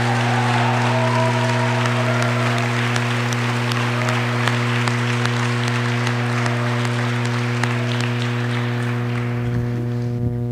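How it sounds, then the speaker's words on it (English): Sustained applause from a crowd at a middle school awards night, steady and loud, over a constant low hum. "Please give these people a round of applause."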